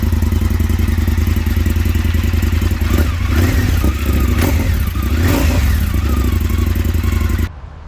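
An Indian FTR Carbon motorcycle engine runs through its exhaust with a catalytic converter and muffler, a loud steady throbbing idle with a couple of slight rev swells, close up, before it cuts off abruptly near the end.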